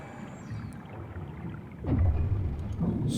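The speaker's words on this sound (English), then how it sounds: "that's not thunder. That's the rocks moving." Rocks shifting deep underwater in the game SOMA, a low rumbling swell like distant thunder that rises partway through and rolls on heavily with faint creaks above it, no voices.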